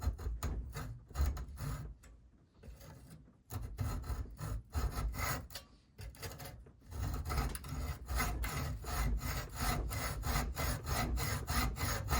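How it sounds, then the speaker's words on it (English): A hand hacksaw cuts through a metal connecting rod in steady back-and-forth strokes, each with a rasping scrape. After a brief pause near the start, the rhythmic sawing continues evenly, close and fairly loud, with no talking. "I think we're going to use the hacksaw because simplicity is fun"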